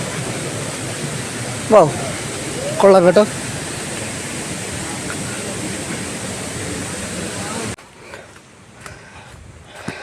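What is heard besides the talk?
Haritheerthakkara waterfall in Kannur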